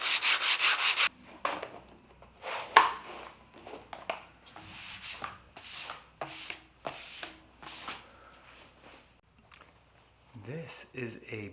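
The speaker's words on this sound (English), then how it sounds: "I'm just making sure I get this flat sanded perfectly." Wood sanded flat by hand for a puukko knife sheath, a run of soft rhythmic rasping strokes close by, with a voice talking over parts of it and a brief harsh burst at the start.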